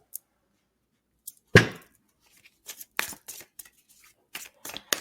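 Tarot cards are shuffled and handled up close in short, crisp bursts of rustling and snapping, spaced out with quiet pauses.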